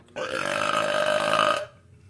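A single long, loud burp sound effect, deep and throaty, sustained for over a second with no other sound around it.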